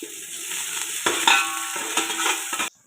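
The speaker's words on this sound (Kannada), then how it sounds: "ಆಮೇಲೆ ಉದ್ದುದ್ದಕ್ಕೆ ಹೆಚ್ಚಿಕೊಂಡಿರೋ ಈರುಳ್ಳಿ ಹಾಕ್ಕೊಂಡು ಫ್ರೈ ಮಾಡ್ಕೊಳ್ಳೋಣ." Long-sliced onions fry in hot oil with bay leaves for a village-style chicken sambar, giving a steady close sizzle broken by scraping stirs and a few clinks of a spoon on the pan.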